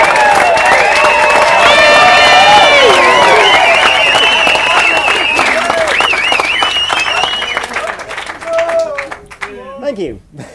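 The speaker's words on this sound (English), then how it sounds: "can you give a warm round of applause for Nick" Wedding guests applaud the bridegroom before his speech, a loud burst of clapping with cheers that fades into scattered claps and voices.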